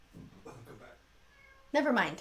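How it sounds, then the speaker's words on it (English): Toby the house cat meows close by in a clear, loud call near the end, after a short stretch of a person talking. "can you hear Toby? The cat is meowing."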